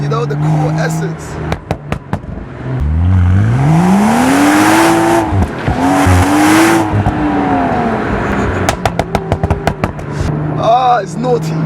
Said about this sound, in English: some people are not going to like the pops and the bangs, but I love it.